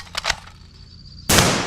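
Rifle gunfire in a video game: a couple of quick sharp shots, then a pause and one loud sustained blast at close range.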